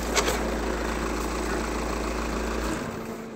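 A car engine idles while recharging a home and camping battery bank, a steady low rumble with even vibration that runs unbroken, then cuts off near the end, with no one talking.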